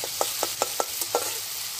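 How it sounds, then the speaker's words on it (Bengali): Shrimp fry in a pan with mustard, and the oil hisses softly while a spatula gives five or six light scraping strokes in an even rhythm. "দিয়ে এবার চিংড়ি মাছগুলোকে ভালো করে এর সাথে ফ্রাই করে নেব।"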